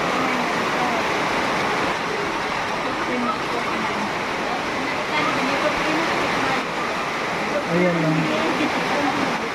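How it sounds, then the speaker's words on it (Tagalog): Rain falls steadily outside a house as a dense, continuous hiss that runs through the whole clip, while people talk quietly underneath. "Umulan na."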